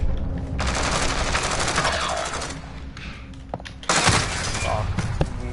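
Rapid automatic gunfire rattles in sustained bursts in Call of Duty Modern Warfare, loud and dense with a brief lull before a fresh volley, while a voice talks over it.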